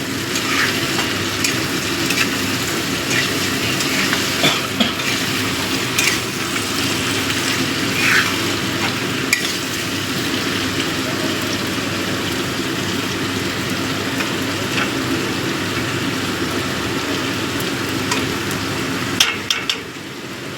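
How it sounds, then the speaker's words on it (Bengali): Onion and potato sizzling loudly in oil in a pan while being stirred, a continuous close frying hiss broken by scraping and tapping of the spoon against the pan. "পেঁয়াজ আর আলুটা একসাথেই ভালো মতো ভাজা হয়ে যাবে"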